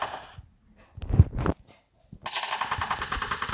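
Gunfire in the mobile battle royale game Free Fire: a short burst of shots, a pause, then sustained rapid automatic fire rattling loudly to the end, with no speech.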